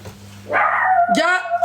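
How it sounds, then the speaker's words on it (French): A dog's single short bark or yelp, close and loud, rising out of quiet background with a steady low hum beneath. "Excusez-moi, c'est mon chien."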